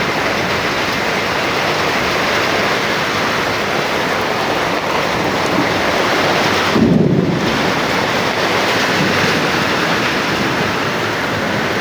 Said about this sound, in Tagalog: Ayan yung kulog at saka kidlat.